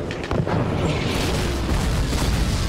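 A Russian grenade blast in Call of Duty 2 with the Back2Fronts mod, a loud rumbling boom that fills the whole stretch with dense, continuous low-heavy roar and no voices.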